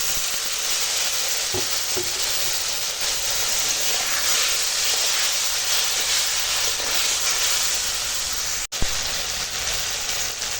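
Water poured into a pan of frying spices and eggplant with chili powder, turmeric and salt, giving a loud, steady close sizzle and hiss that runs unbroken, with a few faint scrapes of stirring.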